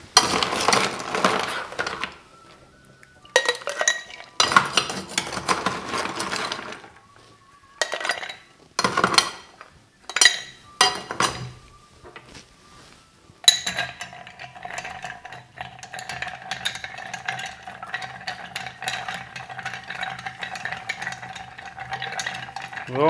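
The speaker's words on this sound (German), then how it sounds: "Der Drink wird natürlich wie jeder Martini gerührt." A Gibson martini made with gin and vermouth being stirred: clinking and scraping of a bar spoon against ice and glass in intermittent bursts, then a steadier swirling stretch, with no talking.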